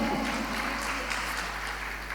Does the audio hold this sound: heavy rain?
no